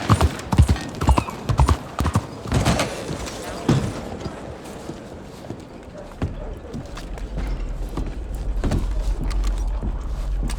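Horse hooves clip-clop in Red Dead Redemption 2 in an irregular rhythm, loud at first and then quieter, with voices talking underneath and a low rumble later on.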